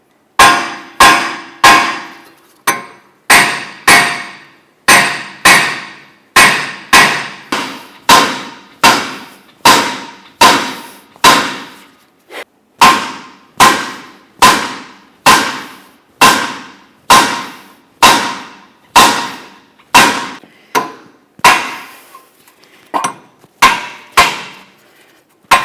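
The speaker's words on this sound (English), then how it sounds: "Just a couple light taps with a hammer." Sharp metallic hammer strikes tapping out a rear wheel bearing on a Subaru Outback ring out one after another in a fairly steady rhythm, each blow loud and close with a quick ringing decay.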